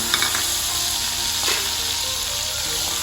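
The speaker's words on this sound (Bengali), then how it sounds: "তেলটা গরম হয়ে গেলে নুন আর হলুদ মাখানো চিংড়ি মাছটা এর মধ্যে তেলে ভেজে নেব।" Shrimp coated in salt and turmeric frying in hot oil in a wok, a loud, constant sizzle and crackle with a brief stir partway through.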